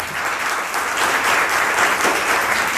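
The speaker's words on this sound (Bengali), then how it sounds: "তার জন্য একটা জোরদার হাততালি হবে।" Enthusiastic applause for a programme host closing an NSS foundation day yoga and Ayurveda event at Birbhum Mahavidyalaya in Suri, a dense, steady wash of many hands clapping throughout.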